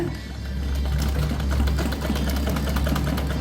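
Sewing machine running steadily while stitching the neckline of a blouse, a continuous close, loud mechanical hum and rapid needle patter with no pauses and no voices.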